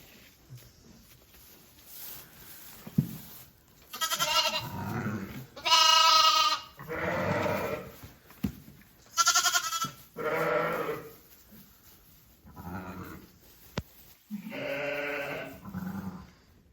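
Lambs and a ewe bleating in a pen: a series of separate, wavering bleats, some high and thin, some deeper, with quiet pauses between them and soft rustling in the background.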